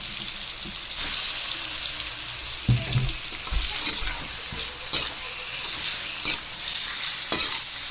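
Chicken pieces sizzling in a hot pot as they start cooking for a sour chicken soup, with a steady frying hiss broken by intermittent stirring clatters and scrapes, no voices.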